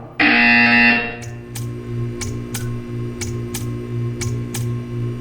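A loud electronic buzzer in the video game Portal 2 blares for about a second, then stops, followed by a low hum and a series of evenly spaced ticking clicks.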